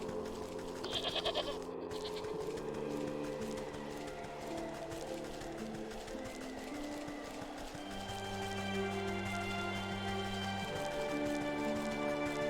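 Goats bleat repeatedly in the Wytchwood video game, layered over steady game music with sustained tones, and nobody speaks.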